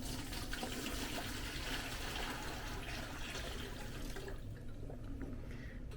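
Warm water pours steadily into a mop bucket, a continuous broadband splashing rush that eases and thins toward the end.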